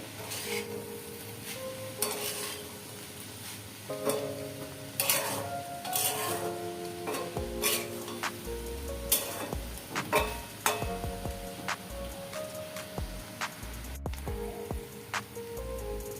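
A spatula stirs ash gourd frying in a pan, giving irregular scraping and clinking strikes against the metal over a soft, steady sizzle. The sounds are close, with bursts of louder scrapes, and no one speaks.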